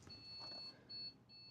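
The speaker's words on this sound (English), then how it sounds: "Single beep, which is good." Single short electronic POST beep from a PC motherboard during diagnostics, a faint high tone heard in brief pulses over quiet room noise.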